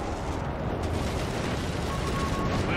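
Airstrike explosions in the Company of Heroes 3 video game, a dense, rumbling wash of blasts rolling continuously and loudly through the short moment.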